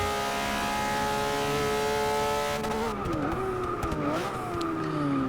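A Porsche RS 4.0 race car in the Forza 6 racing game roars steadily at high revs, then its engine note dips and climbs through several gear changes, with brief tire squeal mixed in, loud and close throughout.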